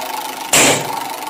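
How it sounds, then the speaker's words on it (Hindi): A rickshaw engine bursts in abruptly with a brief, loud rev lasting under half a second, then fades back to a faint steady hum. "रिक्शा"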